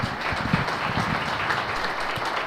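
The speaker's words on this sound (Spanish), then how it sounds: "Dale un aplauso bien fuerte al Señor porque te quiere bendecir grandemente" Church congregation claps loudly for the Lord in a dense, continuous burst of applause with no break.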